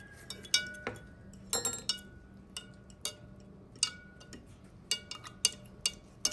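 A utensil stirs salt into water in a container, giving sparse, sharp clinks and taps against the sides at an irregular pace over a quiet background.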